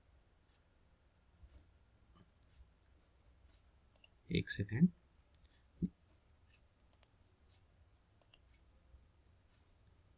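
Sharp mouse clicks on a laptop while a download link is opened, a few scattered taps with a brief cluster in the middle, close and quiet, with a short spoken phrase.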